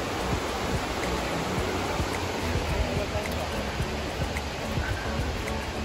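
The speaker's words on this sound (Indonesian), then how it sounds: "Dia punya sungai." A river at a spring garden in Kundasang, a steady broadband rushing roar of flowing water throughout, loud and continuous.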